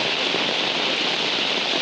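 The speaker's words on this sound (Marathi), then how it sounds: "जोरदार पाऊस चालू आहे" Heavy rain pours steadily during the monsoon rice-planting season in rural Konkan, a dense, continuous wash of hiss filling the whole clip at an even, loud level with no talk.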